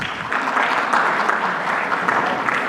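An audience at an HR technology panel discussion breaks into sustained applause, a dense, even wash of clapping that carries on for a few seconds.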